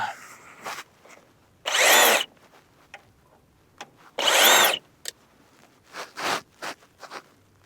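A power drill backs a screw out of a 2x4 during a wooden chicken coop build, two loud sustained whirring bursts with quieter handling clicks and rustles between and after.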